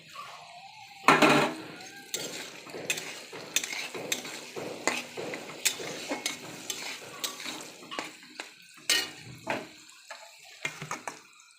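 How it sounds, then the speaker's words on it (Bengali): Vegetables fry in a pan for fried rice as cashews and raisins are added, with a soft sizzle under irregular scraping and clattering strokes of a spatula against the pan, close and moderately quiet. "হালকা করে সবজি ভাজা হয়ে গেছে এবার আমি কাজুগুলো দিয়ে দেবো কাজু কিশমিশটা"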